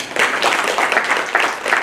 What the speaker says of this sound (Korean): 우선 이 자리에 와주신 여러분께 뜨거운 박수 한번 쳐주십시오